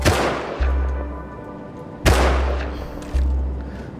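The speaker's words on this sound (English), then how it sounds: "They're shooting at us off the roof." Heavy gunfire in the video game Rust from players shooting off a roof, with loud booming shots at irregular intervals, each followed by a long decaying echo.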